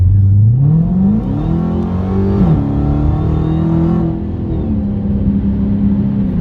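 A Dodge Hellcat accelerates hard, its loud, close engine roar climbing steadily in pitch, dipping briefly at each gear shift, then holding a strong high drone to the end.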